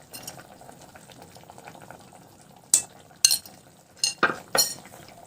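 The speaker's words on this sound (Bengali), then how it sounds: "ঝোলটা ফুটে এসেছে তো এখন আমি এর মধ্যে দিয়ে দিচ্ছি কাজু বাদাম বাটা আর দিয়ে দিচ্ছি সর্ষে পোস্ত বাটা" Fish curry gravy with cashew paste and mustard-poppy paste in a pan, a faint low simmer under several sharp clinks and scrapes of a utensil against the pot near the end.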